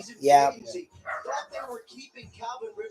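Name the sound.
dog barking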